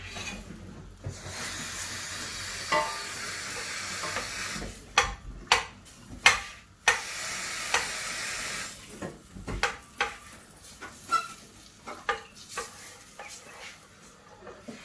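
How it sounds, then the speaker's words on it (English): A wooden spoon stirs a melting cornflake cake mixture in a pan, first as a soft steady scraping, then as a run of distinct knocks and scrapes against the pan, close and fairly quiet. "So we've got a wooden spoon to keep stirring it around."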